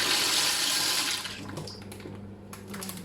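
Dry pasta tipped into a pot of water just starting to boil, a loud watery splash and rush at first that settles into a softer bubbling simmer, with no one talking.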